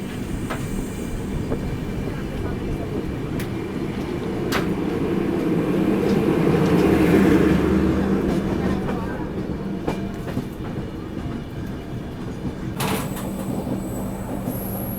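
Passenger train rolling through the approach to Kiul Junction in Bihar, a steady rumble with rail clatter that swells toward the middle and eases off, with faint voices now and then under it.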